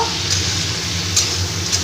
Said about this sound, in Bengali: কাটা বেগুনটাকে দিয়ে দিলাম দিয়ে আবার ভালো করে ভেজে নেব